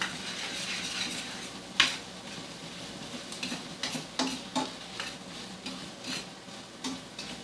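Vegetables and garlic stir-fry in a pan with a steady sizzle, broken by frequent utensil clicks and scrapes against the pan at an irregular pace, close and fairly loud with no talking.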